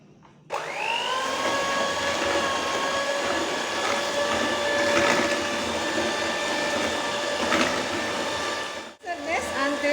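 An electric mixer whirs at medium speed through cake batter, starting abruptly and holding a loud steady motor drone with a high whine for several seconds before cutting off near the end.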